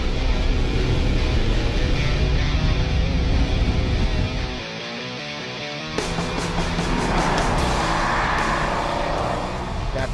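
A 2010 Dodge Challenger SRT8 with a 425-horsepower 6.1-liter Hemi V8 drives under loud, steady engine and road noise, with a brief dip in the middle before the roar resumes.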